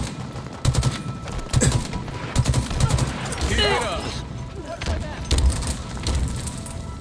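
Repeated close gun bursts in Halo Infinite during a PC multiplayer match in the Bazaar market map, sharp evenly spaced volleys with a sweeping whine in the middle and voices speaking over the shooting.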